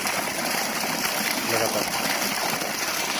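Water gushing continuously from a newly drilled borewell driven by a motor pump, a loud, steady rushing flow with a faint mechanical hum, heard close up.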